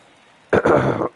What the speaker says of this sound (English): for all of the coughing